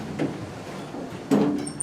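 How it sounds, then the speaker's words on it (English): A 1980s Dover hydraulic elevator door slides shut in a village hall, a brief rumbling close with a louder thud near the end, fairly close and heard alone. "And some door closed like that."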